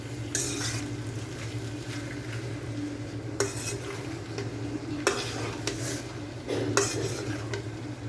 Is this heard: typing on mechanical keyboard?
no